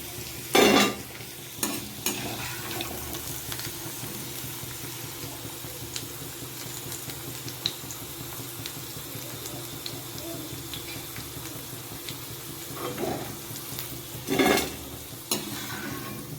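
Chips fry in a pan with a steady, moderate sizzle, broken by a few clattering knocks and stirring sounds, with louder bursts near the start and toward the end.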